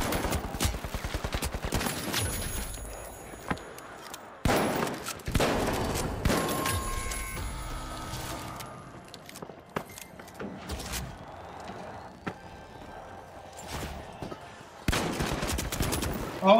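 Gunfire in the shooter game The Finals, where a Model 1887 lever-action shotgun is in use, cracks out in sharp loud bursts at the start, middle and end, with rattling mechanical clicks between the shots.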